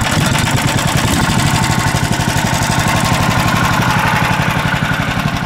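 A broken-down towing tractor engine running hard under throttle, a loud, steady rapid thumping with a rough mechanical rattle that holds through the whole stretch, close by and alone.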